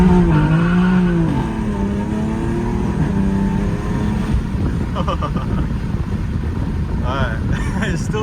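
A BMW F80 M3 launches hard from a standstill, its engine revving loud and close as the rear tires spin through first gear before hooking up, with an upshift and rising engine note following over steady road noise.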